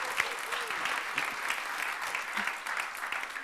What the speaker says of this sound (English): Come on, give Я Jesus a хочу big быть clap.